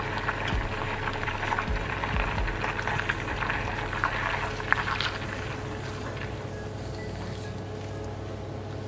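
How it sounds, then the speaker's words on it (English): Liquid bubbling and boiling in a pan while making chocolate brownies, a steady close, dense simmering hiss with small irregular pops throughout, heard alone without talking. "for it to start to sort of bubble and boil"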